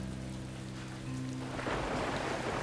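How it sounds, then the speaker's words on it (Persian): Rain falling at night, a steady hiss of drops alongside a low hum that swells into a louder, fuller downpour wash partway through, with no talking. "عجب بارونیه."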